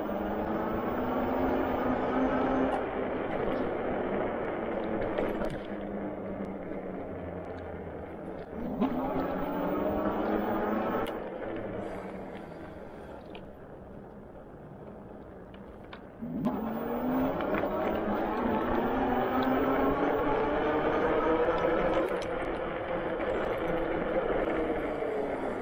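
A Dirwin Pioneer 26x4 fat tire all-terrain electric bike is ridden, its motor whine rising and falling in pitch with changes in speed over steady tire and wind noise, while someone talks intermittently.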